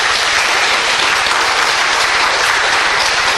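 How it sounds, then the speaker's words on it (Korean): A hall audience applauding together at a business talk, loud dense clapping that stays full and even from start to finish. "자축의 박수."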